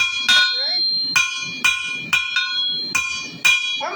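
Blacksmith hammer blows on hot steel while forging a horsehead: six sharp ringing strikes at an uneven pace, each with a bright metallic resonance that rings on between blows, close and loud.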